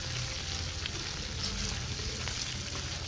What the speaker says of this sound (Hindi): कुकिंग ऑयल ऐड करने के बाद हम इसे थोड़ी देर भूनेंगे